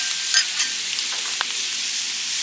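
Shrimp sizzling on a Blackstone flat-top griddle, a steady soft hiss with a couple of brief crackles over a short stretch, close and moderately loud, no voices.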